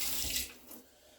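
Liquid poured into a pot of pumpkin soup while cooking, a steady splashing rush that thins out toward the end, close and without speech.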